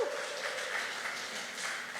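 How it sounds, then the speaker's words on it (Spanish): Faint, steady applause from a church congregation at a testimony service, a soft continuous patter of clapping heard at a distance for about two seconds. "gloria a Dios, dar un aplauso"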